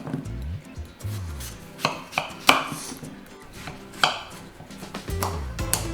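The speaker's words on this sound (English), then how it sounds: "Let's cut the pumpkin into slices" A knife cutting a hard pumpkin into slices for soup in a home kitchen, with several sharp chops and thuds against a board spaced irregularly between quieter scraping and rubbing.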